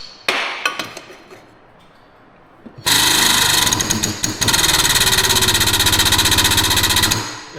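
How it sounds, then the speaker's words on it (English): An air-over-hydraulic pump working a tool to expand an exhaust pipe for a 1949 GMC pickup, a few sharp metallic clanks, then a loud rapid pneumatic hammering that runs for several seconds, briefly pauses, and resumes before stopping. "I added air over hydraulic to this thing."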